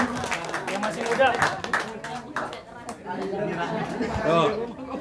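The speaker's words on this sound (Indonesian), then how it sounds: "Tepuk tangan Bapak Ibu semuanya" An audience claps at an Indonesian business opportunity presentation, a sustained patter of clapping from a room of people heard under an MC talking and crowd chatter.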